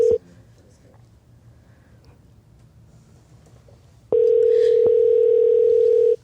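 A steady telephone ringback tone plays while a call waits to be answered, a loud sustained beep at the start, then a long continuous tone after a quiet pause.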